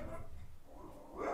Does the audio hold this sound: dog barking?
yes